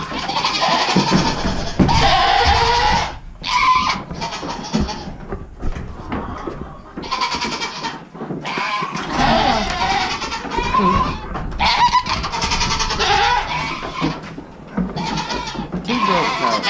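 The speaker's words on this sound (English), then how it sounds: "And we got two goats out." Goats on a livestock homestead bleat repeatedly and loudly up close, overlapping calls filling the whole stretch with short pauses between bursts, amid some thumping and rustling.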